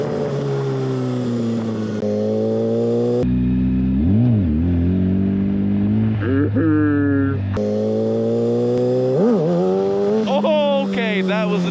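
A 600cc super sport motorcycle revving hard during a wheelie, its engine note rising and falling in repeated surging sweeps, loud and close throughout.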